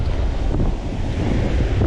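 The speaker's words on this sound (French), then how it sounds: "Comme il y a pas mal de vent" Strong wind buffets a microphone on a surfcasting beach, a constant heavy roar with surf mixed in underneath and no voices.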